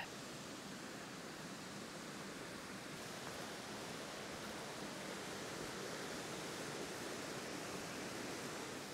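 A waterfall on a wet winter day roars as a dense, unbroken rush of falling water, steady and fairly distant, with no voices over it.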